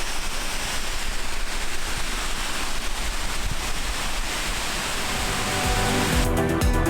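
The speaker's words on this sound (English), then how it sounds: "So this is Break Its Neck Waterfalls, which is a pretty cool place to come at the weekend" Break Its Neck waterfall in the Elan Valley, Wales, roaring as a steady, dense wash of falling water that stays loud and unbroken throughout, with no voices.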